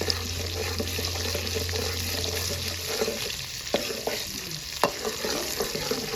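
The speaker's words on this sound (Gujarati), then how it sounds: "હવે એમાં નાખી દેવાનું છે લસણ. તો લસણને છે ને પેલા હરખેથી સડવા દઈએ." Garlic dropped into hot oil and butter with cumin, frying steadily in a pan for pav bhaji, a continuous close sizzle with a few sharp clinks of a spoon against the pan.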